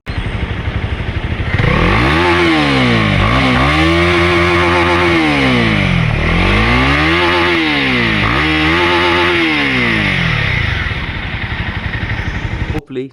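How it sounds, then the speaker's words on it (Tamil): A 2025 Honda CB300R motorcycle engine revs repeatedly, its exhaust note rising and falling in several loud throttle blips over a steady idle. "ஸோ இன்ஜின் பற்றி பேசும்போது அதோட சைலன்சர் நோட் கேளுங்க."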